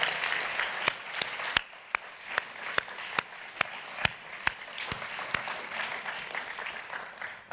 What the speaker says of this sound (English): Yeah, they deserve your applause.